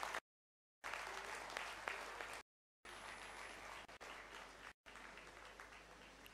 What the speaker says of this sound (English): Amay Kulkarni is gold medalist of BChem, so he deserves a big round of applause.